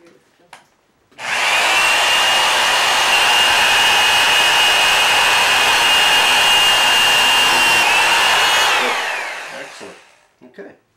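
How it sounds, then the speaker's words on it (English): A power drill whirs loudly and steadily for several seconds while drilling holes in wood for a guitar build, then winds down and stops. "Okay, now, Gina, let's drill these holes now."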